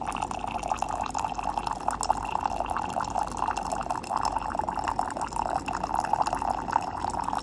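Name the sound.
hot water dispenser pouring boiling water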